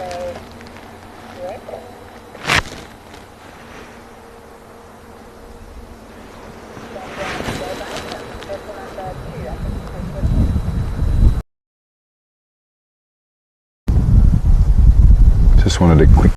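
Strong wind buffets the microphone during a live safari game drive, a rough roaring rumble that swells louder over the final seconds, broken by a brief gap, with people talking beneath it.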